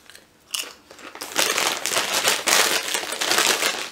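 Close, loud crunching and chewing of Cape Cod sea salt and vinegar potato chips, a run of crisp bites and crackly chews following one another steadily with no speech.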